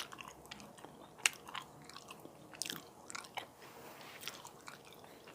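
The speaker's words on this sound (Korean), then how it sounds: "제가 한번 먹어볼 거예요." Seasoned dried banana side dish is chewed up close, with soft irregular bites, faint crunches and moist squishy mastication sounds in quiet surroundings.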